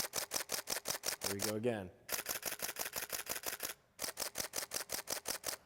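Rapid bursts of Nikon D610 and D600 DSLR shutters firing in continuous high-speed mode, around six and five and a half frames per second, each a loud, crisp run of evenly spaced clicks with a short pause between, and a brief spoken remark in the middle.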